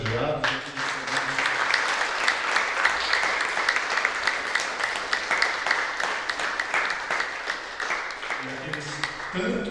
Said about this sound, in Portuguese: pedir uma salva de palmas para todos os homenageados